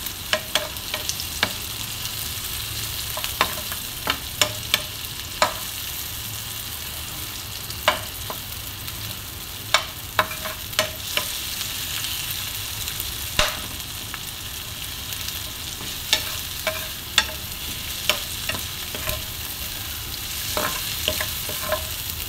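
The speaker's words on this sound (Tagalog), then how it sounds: "i-mix natin yung sardinas" Vegetables with sardines frying in a pan, a steady soft sizzle throughout punctuated by frequent sharp scraping clicks of a stirring utensil against the pan, close and alone without voices.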